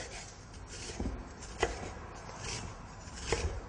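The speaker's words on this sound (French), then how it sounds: "Vous pouvez hacher l'oignon plus ou moins finement selon votre goût" A knife chopping onion on a board for guacamole, with a few distinct chops at an uneven pace, each one close and crisp over quiet background noise.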